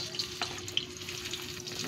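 Ginger, garlic and turmeric sizzle steadily in a generous amount of cooking oil, a close, continuous crackle with small pops and occasional stirring.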